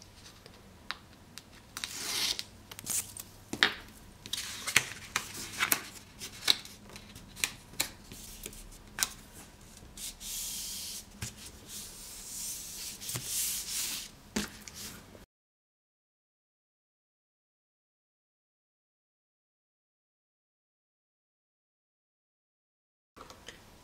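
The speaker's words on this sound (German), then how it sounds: "als nächstes kleben wir das einfach alles auf unsere Graupappe" Taped paper is stuck and pressed onto greyboard for a handmade mini album cover, giving close crinkles, rustles and sharp taps for about fifteen seconds before falling silent.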